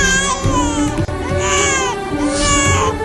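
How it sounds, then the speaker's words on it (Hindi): A newborn baby girl, left abandoned, wails loudly and close by in repeated rising and falling cries with one brief catch for breath. "ये बच्चे की रोने की आवाज कहाँ से आ रही है?"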